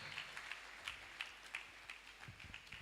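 Faint, distant applause from an audience at a graduate induction ceremony, a scattered patter of clapping with a few slightly louder claps at a loose rhythm.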